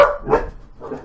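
Dogs bark in a couple of short, loud, close bursts against a quiet room, with a fainter yip trailing at the end.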